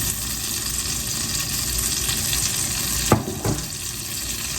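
Butter and extra virgin olive oil heat in a Dutch oven with a steady, close, even sizzle and a couple of brief clinks partway through, without speech.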